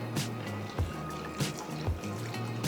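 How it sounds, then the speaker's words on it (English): Water poured into a simmering Creole tomato sauce (sous krioyo), a steady liquid trickle and splash with a low hum underneath. "Now add water."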